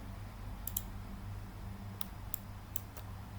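Alt key pressed on a computer keyboard while editing in Photoshop, about six quiet, sharp clicks in short irregular clusters against a faint low hum.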